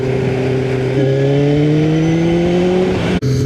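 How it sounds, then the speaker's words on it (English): A motorcycle engine revs steadily, its tone climbing smoothly through one long pull before cutting off abruptly near the end, loud and close with no talking. "Let me give you guys a little listen to the engine."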